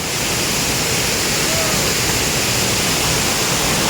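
Kushaloya waterfall roars as a dense, unbroken rush of falling water, loud and close, filling the whole stretch with steady broadband noise and no voices.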